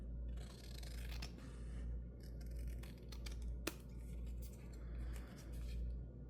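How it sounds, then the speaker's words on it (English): Scissors snip paper to trim the corners of a handmade envelope pocket, giving close, crisp cuts in short clusters with one sharp clip standing out over a low background hum. "we'll cut our little nubbins off the corners"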